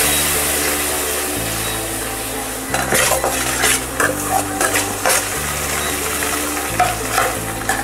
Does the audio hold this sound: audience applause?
no